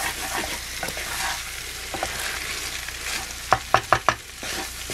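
Egg fried rice sizzles in melted butter in a cooking pan aboard a boat, a steady broadband hiss with a few sharp scrape-and-clatter bursts of stirring near the end.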